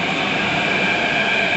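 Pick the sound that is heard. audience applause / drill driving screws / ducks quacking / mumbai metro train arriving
mumbai metro train arriving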